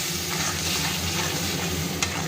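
Poppy seed paste masala for hilsa curry frying in a pan, a steady close sizzle running through with soft stirring scrapes and one brief clink near the end.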